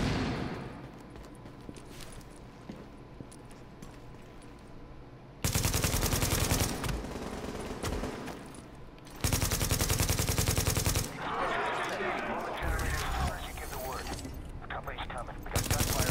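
Bursts of automatic gunfire from the video game Tom Clancy's The Division, loud rapid fusillades crashing in waves over quieter ambient stretches, with sustained volleys in the second half.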